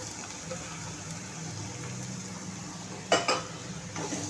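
Raw cauliflower florets tossed into a pan of hot oil with bloomed cumin, a soft continuous sizzle with light scraping, then a couple of sharper clatters of the spatula against the pan near the end.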